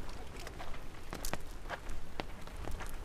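Rain falling steadily as a faint, diffuse hiss with occasional louder drops or taps, distant and without talk.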